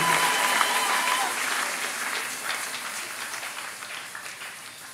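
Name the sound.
congregation applause and cheering in honour of Jesus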